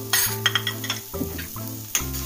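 Ginger, garlic and chili frying in ghee or butter in a pan, a steady close sizzle broken by several sharp stirring scrapes and clinks, with no talking.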